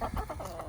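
Chickens cluck in a backyard flock with too many roosters, a quick burst of short, throaty clucks at close range against a low outdoor rumble, with no full crow heard.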